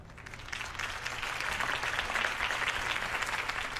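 Crowd applause after a campaign speech in Batman: The Telltale Series, a steady wash of many hands clapping that swells in and holds at moderate loudness with no voices over it.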